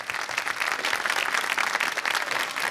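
An audience applauds to welcome a singer at a live televised music gathering, a dense, even wash of clapping that fills the whole stretch.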